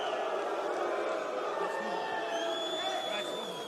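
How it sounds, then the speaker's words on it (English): A fight crowd reacting with displeasure after an eye poke, a steady roar of voices and shouts filling the whole stretch at moderate loudness. "Crowd's not liking that."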